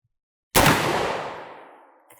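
A single loud .45-70 rifle shot fired at a target, a sharp blast at close range followed by a long rolling echo that fades over more than a second.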